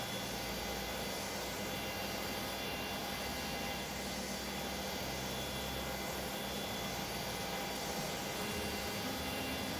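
A jet engine hums in Microsoft Flight Simulator, a steady, unbroken roar with a high whine on top that holds evenly throughout, with no talk over it.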